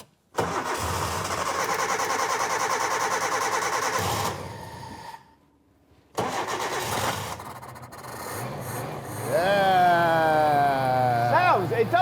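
A project car's engine cranks on the key and catches, settling into a steady idle, then after a brief quiet stretch restarts and revs up and down in rising, falling sweeps, loud and close.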